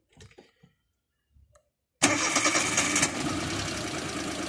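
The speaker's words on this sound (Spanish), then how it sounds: "Enciende el vehículo" After a couple of seconds of faint clicks and near silence, a car engine cranks and catches, then settles into a steady idle that stays loud and close to the end, with no talk.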